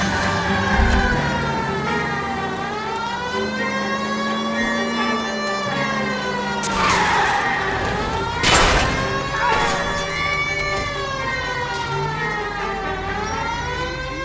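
A police car chase in the video game L.A. Noire, with a siren wailing continuously and loud engine and tire noise, including two sharp skid-like bursts midway, as someone talks over the action.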